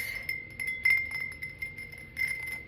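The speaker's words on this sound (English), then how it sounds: "I guess it's like a wine glass" A fancy wine glass being tapped and clinked in a quiet close setting, a series of soft bright chinks with a sustained ringing tone between the light taps.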